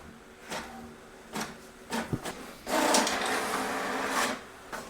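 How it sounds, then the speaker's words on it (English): An HP DeskJet 4255e inkjet printer feeds pages one by one during copying: several short mechanical whirs and clunks, then a longer grinding feed run, close and moderately loud with no talking. "the printer is taking each page one by one"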